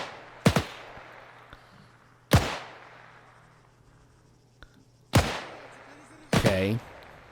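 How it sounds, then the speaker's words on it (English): Gunfire in the WWII-themed Arma 3 battle, four sharp, loud shots spaced a second or two apart, each with a long echoing tail over a faint low hum. "Looks like he's shooting down here"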